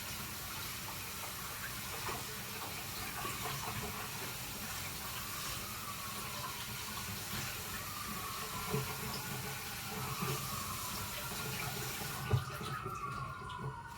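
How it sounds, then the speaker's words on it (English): Fruit rinsed under a running kitchen tap while cooking a soup, a steady close hiss of flowing water with faint splashes and small knocks near the end. "right now I'm just, rinsing off this fruit I have here"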